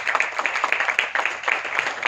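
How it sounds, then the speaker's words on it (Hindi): An audience applauds as a speaker is welcomed onto the stage at a leadership training event. The clapping is dense and steady, with no voices over it. "ये कंजूसी ना करें तालियों में, ये तालियां ही आपका समर्पण है"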